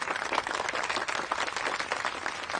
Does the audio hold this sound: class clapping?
yes